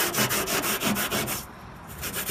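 A Scotch-Brite pad scuffs a primed front fender of a 1979 Chevrolet Caprice, making close, steady rhythmic rubbing strokes that pause briefly and then resume. No voices.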